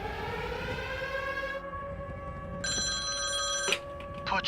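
A phone ringing in an anime scene, a sustained electronic ringtone with bright tonal harmonics that cuts out and returns, loud and close, with a few brief clicks near the end.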